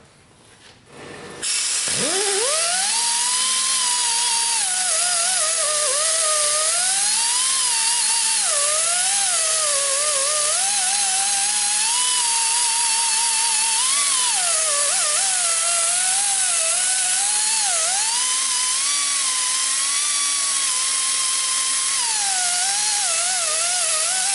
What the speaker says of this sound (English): Just want to try to get some of that rust cleaned off the inside of those ears.